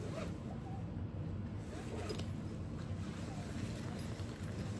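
A zipper on a bag is drawn open with a steady, fairly quiet rasp that runs unbroken for about five seconds over a hissy background.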